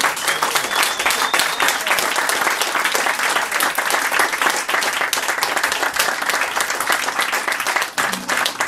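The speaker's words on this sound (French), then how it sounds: "Applaudissez-la encore une fois, s'il vous plaît." An evening performance audience gives loud, sustained applause, with dense clapping holding at full strength for several seconds before dipping near the end.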